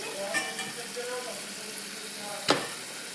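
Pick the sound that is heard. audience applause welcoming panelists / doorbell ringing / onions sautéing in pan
onions sautéing in pan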